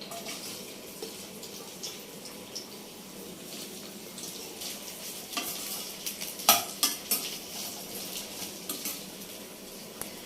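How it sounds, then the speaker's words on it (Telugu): Okra (lady's finger) fries in a pan and is stirred, giving a faint sizzle with scattered scraping and clinks of a utensil against the pan. No one speaks. "ఈ బెండకాయలు కూడా వేపుకోవాలి."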